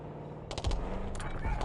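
Bursts of rapid automatic gunfire from a Call of Duty Black Ops 6 campaign battle, two short volleys crackling at moderate distance over a low rumbling backdrop.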